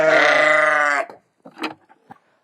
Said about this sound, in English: Okay, so let's see what the sheep do.